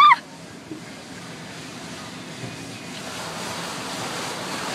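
Water from an automatic car wash sprays steadily over a truck, a broad wet hiss like surf that rises gradually in strength, heard from inside the cab with no talking.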